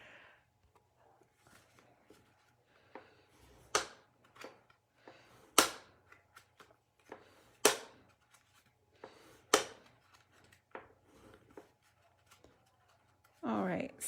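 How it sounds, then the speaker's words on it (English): Paper Z-folded and burnished with a bone folder for a mini pizza box greeting gives sharp, crisp creases and snaps at irregular intervals, close and fairly quiet, with faint scraping between the louder folds. "Each fold, you can kind of hear it folding."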